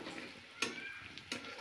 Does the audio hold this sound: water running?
no